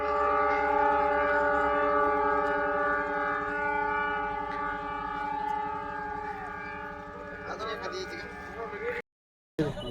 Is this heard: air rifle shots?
no